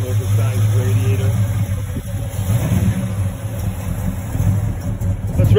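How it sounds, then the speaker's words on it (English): A 1950 Chevrolet 3100 truck engine runs close by with a steady low throb, rising slightly as it is revved, while people talk over it. "Let's rev it up a little bit, Roy."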